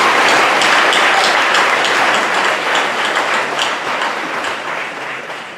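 Audience applause at a university marine sciences convocation ceremony, steady dense clapping from a large crowd that holds loud throughout and slowly tapers toward the end, with no speech over it.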